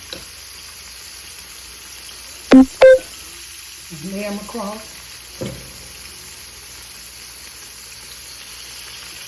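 Pork ribs sizzle in hot oil with a steady soft hiss, broken by two sharp clatters, and a voice speaks briefly partway through.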